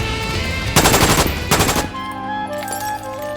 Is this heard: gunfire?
yes